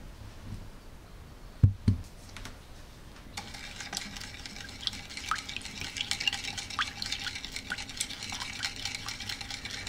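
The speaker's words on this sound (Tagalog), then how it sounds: "At hahaluin lang natin ito mabuti." Salt being stirred into a bitter gourd salad in a bowl: soft, wet mixing with faint clinks of a utensil, quiet and close, after a brief knock near the start.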